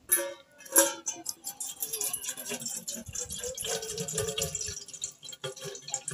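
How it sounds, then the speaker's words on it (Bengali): Water poured into a metal bowl set tightly over a cooking pot while homemade alta is being made, a steady splashing trickle with a few sharper drips, moderately close throughout. "এবার এই গামলার মধ্যে দিয়ে দেব জল।"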